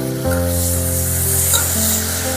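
Prawns with salt and turmeric fry in mustard oil in a kadai, giving a steady close sizzle beneath a sustained tonal hum that lasts the whole moment.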